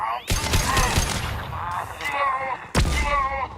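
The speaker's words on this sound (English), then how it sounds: "Watch out, flashbangs!" Flashbang grenades go off in the Mass Effect 2 firefight as two sharp, loud blasts, one near the start and one late, amid ongoing combat noise and voices.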